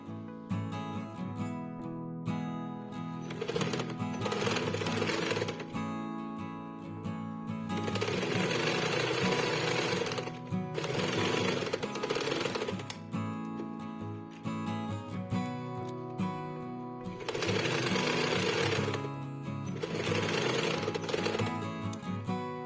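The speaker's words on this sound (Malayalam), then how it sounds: "ഇനി നമുക്ക് ഈ ബാഗിനെ 2 മടക്കി വെച്ചിട്ട് ബാഗിൻ്റെ 2 സൈഡും തയ്ച്ചെടുക്കാം." A sewing machine stitches the sides of a folded fabric carry bag being made into a party-wear handbag. It runs in several steady, loud whirring bursts with short pauses between runs.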